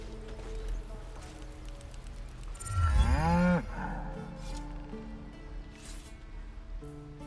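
A cow mooing in Baldur's Gate 3, one loud drawn-out low moo near the middle, heard over quiet ambient game sound with no talking.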